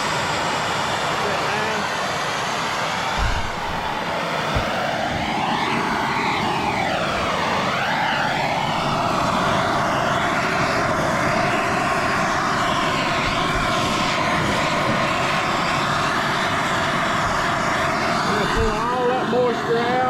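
A MAP gas torch burns steadily for the whole stretch, a loud continuous roaring hiss with a slight wavering in tone, while a person talks over it.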